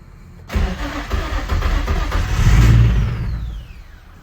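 A Nissan 350Z fires up after a motor swap: the starter cranks briefly, then the engine catches with a loud, close roar, swells into a rev and settles back toward idle.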